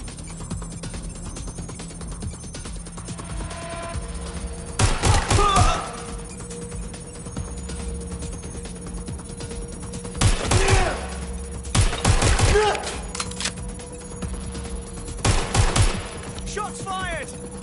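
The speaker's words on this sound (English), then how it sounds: "Shots fired!" Bursts of gunfire in the Watch Dogs Legion video game, three or four loud clustered volleys of rapid shots spaced several seconds apart over a steady background hum.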